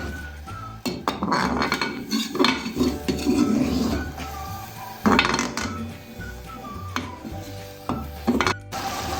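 A spoon stirs yogurt into chicken karahi in a cooking pot, giving close, intermittent scrapes and metallic clinks with short pauses and no talking.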